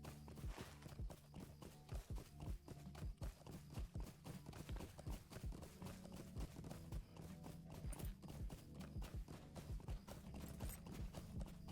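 A horse ridden in the Lord of the Rings Online video game trots with steady, rhythmic clip-clop hoofbeats that continue evenly throughout, loud and close.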